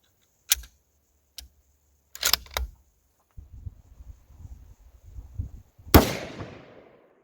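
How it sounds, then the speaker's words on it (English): A Ruger M77 Hawkeye rifle in 7mm-08 fires a single Hornady round, a sharp loud crack with a decaying echo, preceded by a few faint clicks and handling noises. "I'm gonna go ahead and shoot at this target here"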